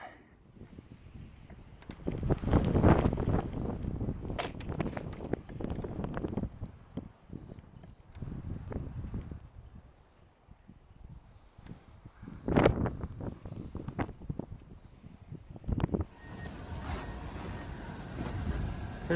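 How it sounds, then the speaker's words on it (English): Wind gusts outside a Kodiak canvas tent during a 21-inch snowstorm, heard from inside as a steady, uneven rushing and rustling that swells and fades, with sharper flaps here and there. "Here's the inside of the tent with the wind going on."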